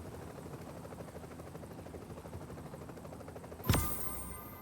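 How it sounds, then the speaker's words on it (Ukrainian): A helicopter arrives in the video game The Division, its steady rotor drone running throughout before a sudden loud burst near the end that fades out. "А ось і гелікоптер, і тепер можна сідати в нього по черзі."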